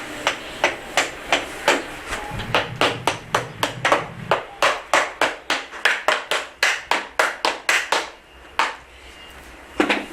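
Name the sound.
dressing lead flashing with a hardwood block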